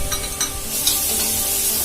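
Tomatoes being stirred into a paneer masala in a pan, a continuous sizzle with soft scraping strokes of the spoon, close and steady.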